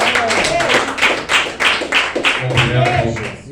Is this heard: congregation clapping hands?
yes